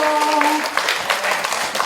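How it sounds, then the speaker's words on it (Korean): Audience applauding as a singer is welcomed on stage, a brief burst of clapping that rises as an amplified voice fades out. "큰 박수로 맞이해주세요."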